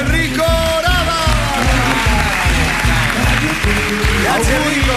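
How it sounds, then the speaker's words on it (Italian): Studio audience on a live Italian radio show applauds the jazz trumpeter guest, a steady dense round of clapping throughout, loud and close, with a voice faintly over it and bright music-like tones above. "io ringrazierei con un grande applauso"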